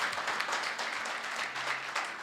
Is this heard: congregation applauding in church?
yes